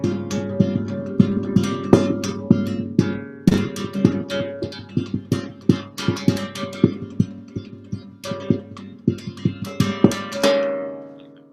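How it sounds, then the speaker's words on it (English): Thumbs used like beaters tap on instrument strings in a percussive technique, giving a steady run of sharp, resonant plucked hits with ringing tones, close and moderately loud with no voices. "this is me with my thumbs like beaters tapping on the strings here"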